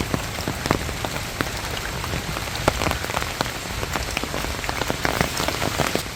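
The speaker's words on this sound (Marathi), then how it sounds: "पावसाचा आवाज निसर्गाचं हे सुंदर म्युझिक आपण ह्या माध्यमातून ऐका" Rain pours steadily onto garden trees and surfaces in Solapur, a dense close hiss on leaves sprinkled with sharper drip taps, continuous and without any voices.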